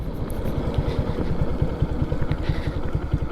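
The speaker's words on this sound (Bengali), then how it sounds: "একটু এক্সস্ট নোট দেখায় হেলিপ্যাডে এসে" A modified Lifan KPR 165 motorcycle fitted with a KPR racing exhaust and dB killer idles on a helipad, a loud close burbling exhaust note with rapid regular pulses and slight revs.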